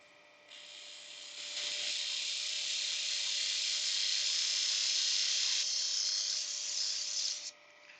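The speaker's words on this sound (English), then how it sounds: "Put the dust extractor on." A dust extractor in a woodworking workshop starts up and runs as a steady, fairly quiet whooshing hum with a constant tone, then cuts off near the end.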